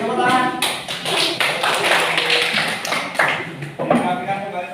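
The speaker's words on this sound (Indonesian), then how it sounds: "beri tepuk tangan" Classroom applause as students clap together at the teacher's request, a dense, loud, continuous patter of hands throughout, with voices mixed in.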